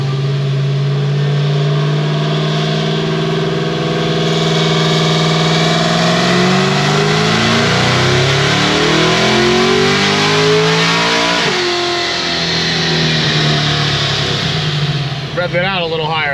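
A 1200-horsepower Stage 5 Cadillac CT5-V Blackwing engine revs on a dyno, pitch climbing steadily through a long loud pull before cutting back, then idling with a burbling note at the end.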